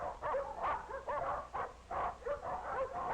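Several dogs in a dog pound bark and whimper in repeated short bursts, fairly loud and close, one yelp after another with brief gaps.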